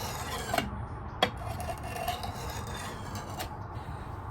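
A steel edge is rasped along the blade of an antique 1950s-era handmade Bowie camping knife, a steady close scraping rhythm with a few sharper ticks, fairly quiet and with no talk.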